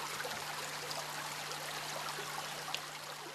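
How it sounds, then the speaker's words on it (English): A mountain stream named Swarga flowing through hilly terrain in India, giving a steady, continuous rush of water with an even level and no pauses, close by and alone, with a faint constant low hum underneath. "Swarga is one such stream."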